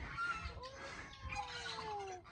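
Pet pigeons in a small, muddy backyard patch after overnight rain give off soft, close, continuous cooing and warbling calls, with no one speaking.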